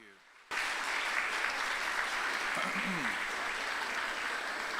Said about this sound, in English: let's give them a round of applause for them too